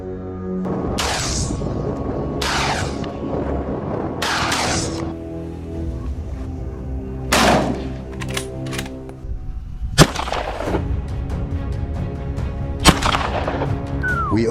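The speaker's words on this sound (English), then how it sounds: "We opened fire without delay," Rifles fire at wild boars during a hunt with dogs: about six sharp, loud shots spaced irregularly over a steady outdoor background.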